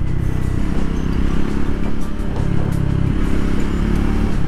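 A Triumph 400X adventure motorcycle engine drones steadily and loudly up close while being ridden, its low rumble mixed with wind noise and staying constant throughout.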